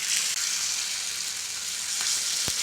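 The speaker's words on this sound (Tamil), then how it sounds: "முக்கால் குழிக்கு வர அளவுக்கு என் மாவு ஊற்றிடுங்க" Spicy kara paniyaram batter sizzles in the wells of a hot paniyaram pan, a steady, close, bright hiss of frying that holds throughout with no talking.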